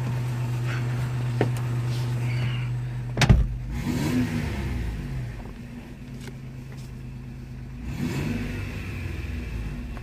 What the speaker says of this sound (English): I'll give you guys another rev up.